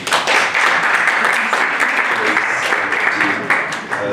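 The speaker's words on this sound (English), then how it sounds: "I think let's give a clap to" An audience at a final briefing event claps, a dense, continuous burst of applause that stays loud for the whole stretch.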